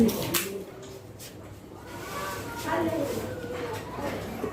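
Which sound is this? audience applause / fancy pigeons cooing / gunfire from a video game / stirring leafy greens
fancy pigeons cooing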